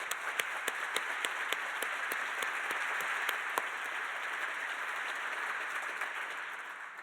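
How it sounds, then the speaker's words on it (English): Audience members at a business luncheon applaud the event's sponsors with steady, moderately distant clapping in which a few sharp individual claps stand out, and the applause tapers slightly at the end. "would you please join me in giving a round of applause to all of our sponsors?"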